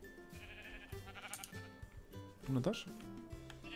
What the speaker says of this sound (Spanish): tengo tres ovejas aquí